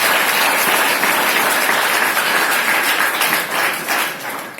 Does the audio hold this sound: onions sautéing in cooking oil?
no